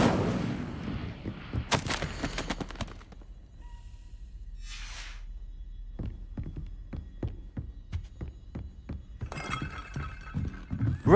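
Casting the Incendio fire spell in Hogwarts Legacy brings a bright whooshing burst followed by a run of sharp, rhythmic crackling and clinking hits, then a fresh flare of fiery noise near the end.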